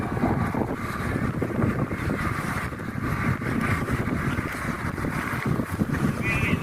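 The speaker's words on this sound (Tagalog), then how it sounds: "So, ang lamig na hangin dito." A cold wind blows steadily at a windmill site in Rizal, buffeting the microphone with a continuous low rumble and roar.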